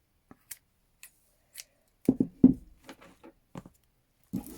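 Scissors snipping through fabric for a small shabby-style pouch, a series of short, crisp, close cuts spaced irregularly with brief pauses between them in a quiet room.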